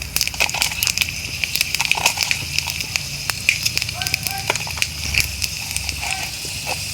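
Two large bay leaves, a dried red chili and a five-spice mix sizzling in hot oil for a mixed-vegetable dish, a steady crackle under someone speaking, with scattered sharp pops.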